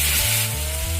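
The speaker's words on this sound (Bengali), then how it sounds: "সমস্ত মশলা আমি লো ফ্লেমে 1 থেকে 2 মিনিট ভেজে নেব" Ginger paste, cumin, coriander, dry chilli powder, turmeric and chopped green chilli with a splash of water frying in oil over a low flame, giving a close, continuous, even sizzle.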